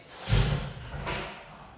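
A kitchen drawer in a newly built house with quartz countertops slides and closes with a soft thud, one muffled bump followed by a lighter second movement, heard alone at close range.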